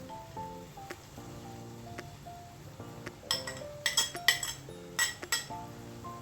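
Spoon taps and clinks against a pan of carrot halwa as cardamom powder goes in, with faint ringing metallic chimes early and a flurry of sharper, louder clinks and scrapes toward the end.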